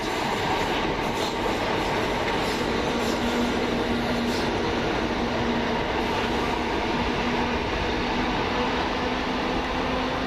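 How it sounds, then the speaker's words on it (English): A Gatwick Express train, unit 442403, rumbles past steadily at East Croydon station for the whole stretch, with a faint clickety-clack of wheels and a thin metallic whine, no voices. "Over on the far side we have a Gatwick Express."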